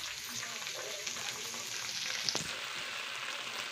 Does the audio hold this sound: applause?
no